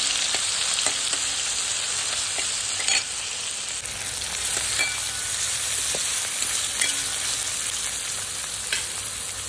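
Onion fries in a pan with an even, dense sizzle, along with occasional soft stirring scrapes and clicks, for a radish vegetable dish. The frying stays close and steady, with no talking.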